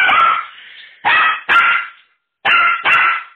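A pet dog barks in a series of loud, close barks, one long drawn-out bark followed by pairs of sharp barks separated by short silences, with no speech.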